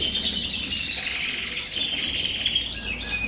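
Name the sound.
caged pet birds chirping in a bird room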